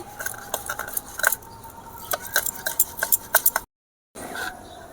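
Potatoes being grated, a quick series of close scraping, rasping strokes against a metal grater with light clinks, pausing briefly near the end before resuming, no talk.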